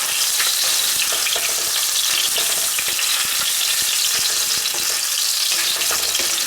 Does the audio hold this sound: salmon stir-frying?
yes